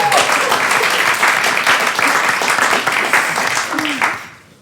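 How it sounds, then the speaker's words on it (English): A television comedy panel show's studio audience applauds, a loud, dense burst of clapping that holds steady for several seconds, with a voice faintly heard over it, before fading out at the end. "Give them a round of applause"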